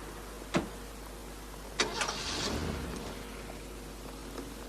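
A car starts up with a couple of sharp engine-catch bursts, then settles into a low, steady idle and rolls off, heard fairly close in a quiet outdoor setting.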